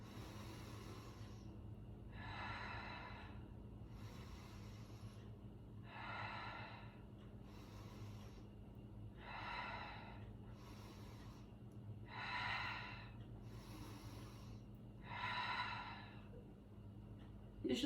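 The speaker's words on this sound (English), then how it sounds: "you'll inhale through the nose, expanding the belly. And exhale through the mouth." Slow, deliberate breathing, in through the nose and out through the mouth, repeats in about six even cycles of soft, airy breaths, close and quiet with no talk.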